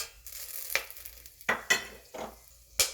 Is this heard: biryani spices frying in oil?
yes